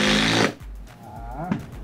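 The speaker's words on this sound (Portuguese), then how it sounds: "Tortando o parafuso aqui." A power tool drives a screw into stacked layers of wood: a loud, close half-second whir that cuts off abruptly, followed by quieter handling noise and a brief voice.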